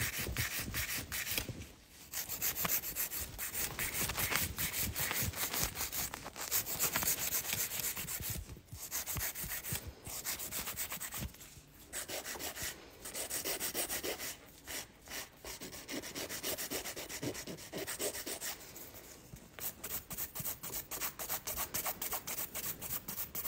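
A nail file rubs lightly over a fingernail near the cuticle during French manicure work, giving steady rasping strokes in quick back-and-forth rhythm, close and alone, with brief pauses between passes.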